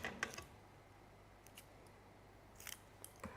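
Scissors snipping through foam pads during card making, a few quiet crisp cuts in short clusters in a very still room.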